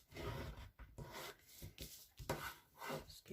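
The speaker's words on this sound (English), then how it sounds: "I'm just going to fold that in half and just burnish along the edge there" A folded white card base is burnished along its crease, producing quiet, close rubbing strokes in short repeated swipes with brief pauses between them.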